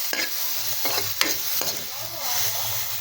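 String beans frying in oil for adobong sitaw, a steady close sizzle broken by a few scraping stirs of a spatula, with no talking.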